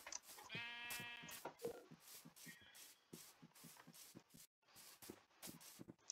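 A sheep in a Minecraft-style block-building game bleats once with a quavering, drawn-out cry, followed by a string of soft shuffling clicks and footsteps.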